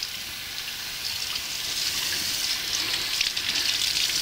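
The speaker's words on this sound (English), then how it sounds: "the first thing I'm going to do is turn on my hot water" Hot water runs steadily from a kitchen tap, a continuous close hiss and gush of flowing water that builds slightly over a few seconds with no talking.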